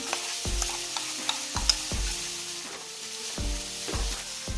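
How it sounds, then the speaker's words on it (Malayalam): Onions sautéing with ginger, garlic and green chili paste for prawn biriyani, a soft sizzle punctuated by repeated loud metallic knocks of a spoon against the pot, each ringing briefly, at an irregular rhythm with no talk. "കുറച്ച് സവാള വഴറ്റിയെടുക്കാം. ഇതിൻ്റെ കൂടെ മാറ്റി വെച്ചിരുന്ന ഇഞ്ചി, വെളുത്തുള്ളി, പച്ചമുളക് പേസ്റ്റും കൂടെ ഇടാം."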